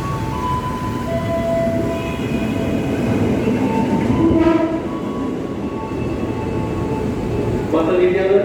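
A new China-built KRL commuter electric train rolls into a platform at Bekasi station, a continuous loud rumble with faint rail clatter, short horn-like tones and a platform announcement over it.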